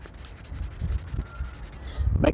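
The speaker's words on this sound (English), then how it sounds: "So what I use is just a little bit of sandpaper. This is 1200." Fine 1200-grit sandpaper lightly rubbing a PDR tap-down tip in quick, soft repeated strokes, close and faint, ending in a slightly louder scrape.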